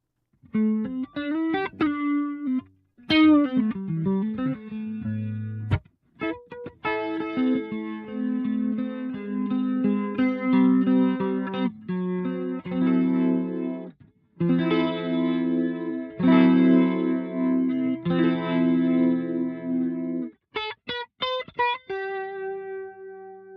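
A Boss RT-2 Rotary Ensemble pedal colours an electric guitar in stereo, sustained chords and single notes swirling with rotary-speaker chorus and wobble, played alone without talk.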